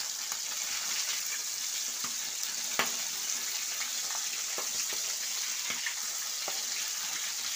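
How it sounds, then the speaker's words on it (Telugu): Fish pieces frying in a pan, an even, moderately loud sizzle with scattered small pops and occasional light clicks. "ఫిష్ ఒక్కొక్కటిగా వేసుకోవాలి. ఫ్రై చేసుకోవాలి ఫ్రెండ్స్."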